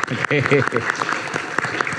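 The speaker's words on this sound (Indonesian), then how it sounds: "Kita beri tepuk tangan." Studio audience clapping to welcome the academic Rocky Gerung on a talk show, the applause running under and around a voice speaking over it.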